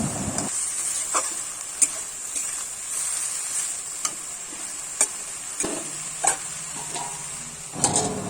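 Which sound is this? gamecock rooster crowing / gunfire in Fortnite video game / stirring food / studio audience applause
stirring food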